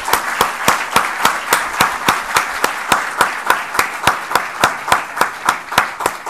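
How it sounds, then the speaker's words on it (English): At a policy forum lecture, clapping sounds as sharp, evenly spaced, loud claps in a steady rhythm, about three per second, close and dominant rather than the wash of a full crowd. "A very warm round of applause for Raghu."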